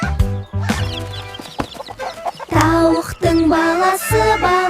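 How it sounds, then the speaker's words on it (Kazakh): A hen clucks loudly and close in short, repeated bursts with brief pauses, set among the music of a children's song about animals. "Бұл тауық"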